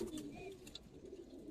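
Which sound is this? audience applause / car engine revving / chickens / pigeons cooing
pigeons cooing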